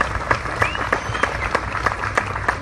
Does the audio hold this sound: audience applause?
yes